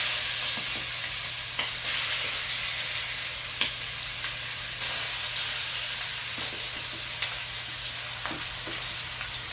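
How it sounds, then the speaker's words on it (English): Seasoned marinated chicken sizzling in a pot as curry is cooked, a steady close hissing fry with intermittent clicks and scrapes of stirring. "You hear that sizzle?"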